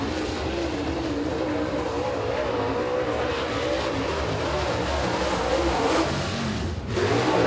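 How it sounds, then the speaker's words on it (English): A super late model race car runs a lone qualifying lap at Eriez Speedway, its loud engine roaring and revving continuously as it circles the dirt oval, with a brief dip and surge near the end. "Mike Knight, the only car out there around the track."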